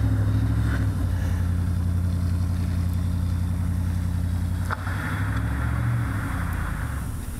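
A truck engine labours steadily at low revs while trying to climb a slippery hill, a loud, continuous drone that dips briefly and resumes, heard from nearby with no talking.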